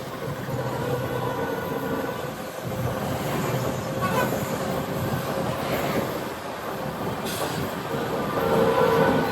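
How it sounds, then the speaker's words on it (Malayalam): The Vivek Express passing by as seen from a roadside, a sustained rumble and clatter of rail cars that swells toward the end, with faint wheel squeal above. "ട്രെയിൻ കടന്നു പോകുന്ന കാഴ്ചകളൊക്കെ റോഡിൽ നിന്നുകൊണ്ട് പകർത്തിയിട്ടുണ്ട്"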